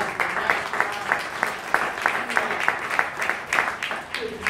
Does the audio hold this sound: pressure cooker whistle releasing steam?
no